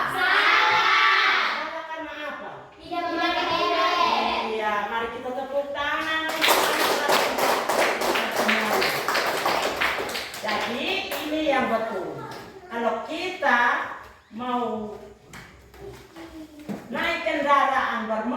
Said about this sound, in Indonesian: Iya, mari kita tepuk tangan